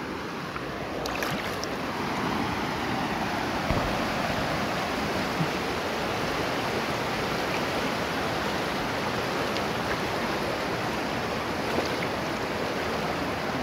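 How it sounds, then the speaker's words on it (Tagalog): A river current flows steadily, a continuous broadband rush of moving water that stays close and even throughout with no pauses. "Agos oh."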